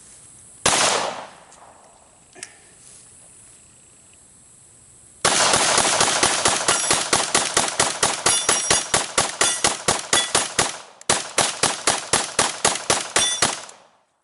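A PPS-43C submachine gun emptying a full magazine, starting with a single loud blast and a clank, then a long rapid burst of sharp shots with one brief break, close and very loud with metallic ringing.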